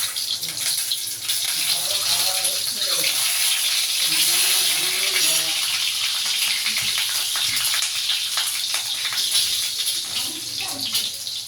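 Eggs frying plain in a pan with no salt or turmeric, giving a steady broadband sizzle that holds at an even loudness throughout, with some faint background voice or clatter underneath.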